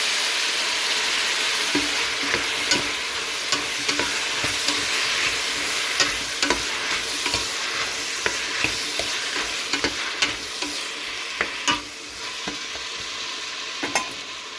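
Chopped tomatoes sautéing with ginger garlic paste in a pan, a steady loud sizzle broken by repeated sharp spoon taps and scrapes from stirring at irregular intervals.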